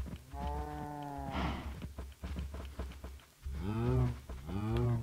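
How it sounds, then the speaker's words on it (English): Cows in a pen in the video game Minecraft moo several times, with long drawn-out lowing calls at the start and again near the end and shorter grunts between them, fairly loud and close, with no voices. "You can probably already hear it. I've got a ton of cows in here."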